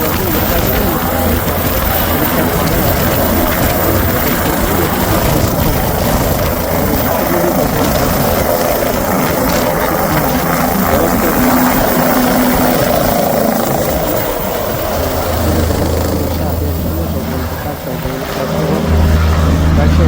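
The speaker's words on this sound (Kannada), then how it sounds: "ಕಡಿಮೆಗಳ ಮಧ್ಯೆ ಸಾಗುವಂಥ ಹೆಲಿಕಾಪ್ಟರ್ 7 ನಿಮಿಷದಲ್ಲಿ ಕೇದಾರನಾಥ್ ಹೆಲಿಪ್ಯಾಡಿಗೆ ಹೋಗ್ತಾ ಇದೆ" Steady, loud rotor drone of a helicopter flying to the Kedarnath helipad, a low continuous whir with faint voices mixed in underneath.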